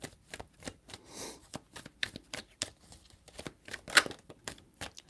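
Tarot cards are shuffled by hand in quick riffling bursts, with a dense flutter of crisp paper slaps repeating close to the ear and no talk over them.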